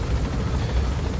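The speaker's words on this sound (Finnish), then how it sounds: "tästä nyt vierestä lentää joku kopteri, mut ei sen väliä" A helicopter flying close past in the video game Metal Gear Solid V: The Phantom Pain, a loud steady rotor drone with low thudding rumble, heard alone without talk.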